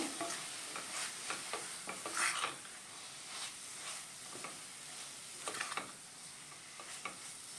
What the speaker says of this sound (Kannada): ಇದು 1 ನಿಮಿಷ ಫ್ರೈ ಮಾಡಿಕೊಂಡ್ರೆ ಸಾಕು